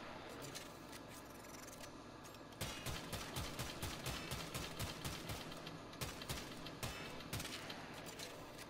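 Semi-automatic fire from the Stradavar assault rifle with an Argon Scope in the video game Warframe, heard as quiet background noise and then a quick series of sharp, evenly spaced shots with no talk.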